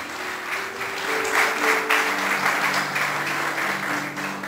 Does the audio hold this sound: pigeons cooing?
no